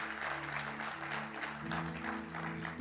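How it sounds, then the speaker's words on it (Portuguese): A church congregation claps for the Lord, a soft, dense patter of many hands, with sustained organ or keyboard tones beneath it throughout. "dê um aplauso bem forte ao Senhor"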